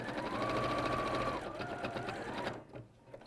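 A sewing machine runs a reverse stitch, its needle chattering in a fast, steady mechanical rhythm close by before slowing and stopping near the end.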